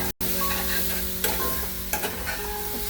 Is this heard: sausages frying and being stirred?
yes